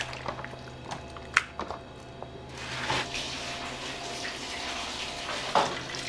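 Running water rinsing pork offal, including rectum, sorted and washed in a Hokuriku udon shop kitchen for motsu nikomi udon; a steady splashing, tap-like flow with occasional wet squishes and clatters, close by and without talk.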